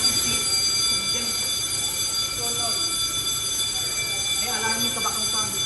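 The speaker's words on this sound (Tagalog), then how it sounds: "Baka ito bang smoke ba nag-alarm?" A smoke alarm sounds during cooking at a samgyupsal meal, steady high-pitched beeping tones held throughout while people talk and react nearby.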